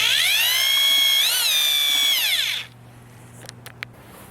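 A power drill fitted with a mixing paddle churns lime putty in a plastic bucket, whining loudly with a shifting pitch for about two and a half seconds before stopping, leaving faint scraping and a few light knocks.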